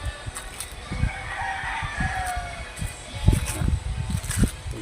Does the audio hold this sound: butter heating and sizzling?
no